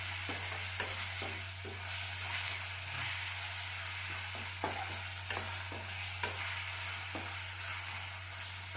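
Green chillies, garlic and black-eyed beans fry steadily in a pan, giving a continuous close sizzle with repeated stirring clicks and scrapes and a low steady hum beneath.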